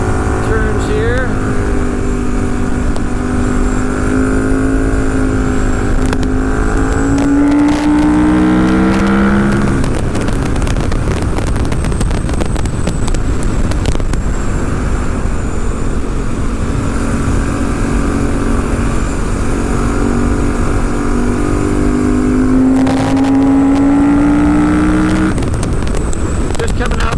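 A 2014 KTM 1290 Super Duke motorcycle engine roars under a rider accelerating through turns, its pitch climbing and falling with throttle changes, loud and steady beneath wind rush, with a voice talking over it.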